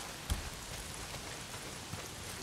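Steady, soft rainfall hisses continuously, with a couple of faint heavier drops or taps standing out; no voices.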